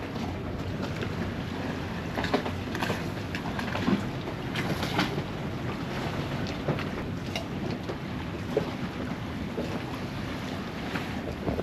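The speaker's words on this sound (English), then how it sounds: "40 knot winds." Strong 35-40 knot wind, gusting to nearly 40 knots, roars steadily around a sailboat at anchor off the Exumas, a dense continuous rush with buffeting gusts and water noise, no voices.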